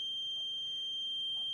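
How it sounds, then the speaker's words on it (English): A steady, piercing electronic buzzer tone sounds continuously and loudly, unbroken, over a quiet background. "you can see the beep of the sound buzzer"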